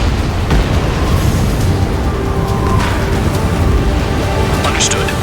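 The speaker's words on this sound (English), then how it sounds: "Spare 15, launching missile." Missile launch and blast in the Ace Combat 7 air-combat game, a dense rumbling roar with sharp pops near the start and end, loud and continuous under in-game engine noise.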